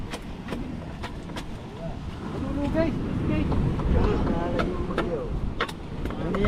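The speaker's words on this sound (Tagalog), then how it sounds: "lumalakas na ulit ang hangin." Strong seaside wind buffeting the microphone in a steady, rising roar, with crowd noise and scattered voices faintly underneath.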